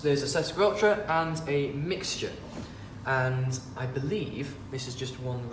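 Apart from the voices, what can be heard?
No everyday noises stand out.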